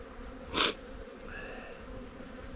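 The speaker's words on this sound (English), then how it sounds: "We got a lot of bees on here. A lot of bees." Soft, steady buzzing of many honey bees around a hive frame, with a brief louder rustle near the start; no talking.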